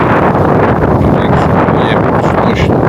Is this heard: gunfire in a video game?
no